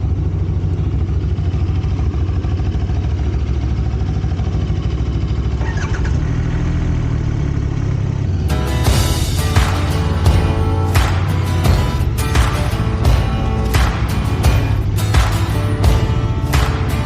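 Chang Jiang sidecar motorcycle engine idling with a low steady rumble, then catching into a louder, rougher running note with repeated sharp bursts as it revs, close by and alone without talk.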